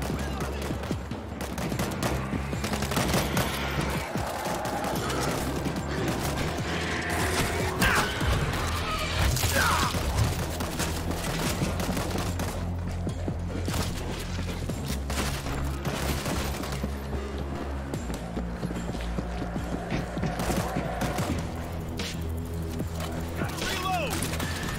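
Mortar blasts and sustained gunfire roar from a World War Z zombie shooter level set around Jerusalem's Dead Sea, a dense, loud continuous barrage with shouted voices mixed in.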